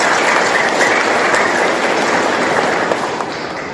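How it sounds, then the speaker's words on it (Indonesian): Crowd applause at the inauguration of a Maitreya vihara temple in Sonde village, Rangsang, a dense, steady clatter of many hands clapping, loud and sustained throughout, easing off slightly near the end. "Tepuk tangan untuk kita semua."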